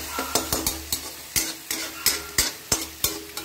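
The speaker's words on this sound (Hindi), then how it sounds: "टमाटर भी डाल देते हैं और हम लोग थोड़ा इसको फ्राई होने देते हैं" Chopped tomato frying in a pan for spicy Maggi noodles, an ongoing sizzle punctuated by about a dozen rhythmic spatula scrapes and knocks against the pan, close and fairly loud.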